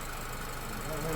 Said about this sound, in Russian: Ну двигатель хорошо работает.